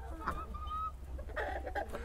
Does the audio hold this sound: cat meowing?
no